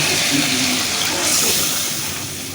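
Water pours into a pan of rui fish curry after frying down the masala, a loud, broad rushing splash that fades slightly toward the end, no voices.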